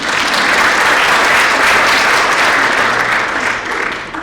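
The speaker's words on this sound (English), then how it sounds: "Let's give her a round of applause." An audience at a National Business Honor Society induction ceremony claps loudly and steadily, a dense round of applause that dips slightly near the end.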